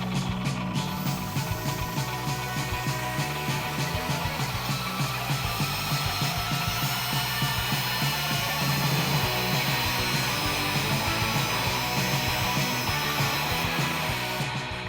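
Angle grinder stripping paint in an entryway, a loud continuous grinding whine with rough scraping texture, steady and close for the whole stretch, no talk.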